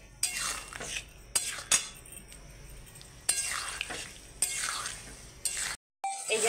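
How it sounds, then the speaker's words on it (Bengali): Potato, pointed gourd and prawns being sautéed in spiced oil, with a spatula clinking and scraping against the pan in repeated strokes over a faint sizzle, no speech. "এই যে এবার আমি সব একসঙ্গে রেখেছিলাম আলু পটল চিংড়ি সব দিয়ে দিচ্ছি। দিয়ে আর একটু কষিয়ে নেব।"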